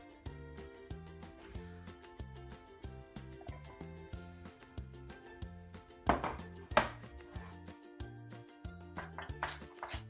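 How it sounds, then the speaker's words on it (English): Knife chopping a Hokkaido pumpkin into small cubes on a board, steady rhythmic thuds repeating about twice a second, close and clear against a soft musical background. "I'm cutting the Hokkaido pumpkin in smaller cubes"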